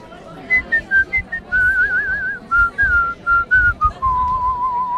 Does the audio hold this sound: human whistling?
yes